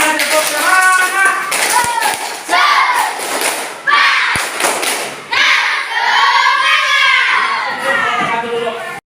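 A school class of children does rhythmic spirit clapping, loud thumping claps alternating with shouted voices in unison, close and energetic.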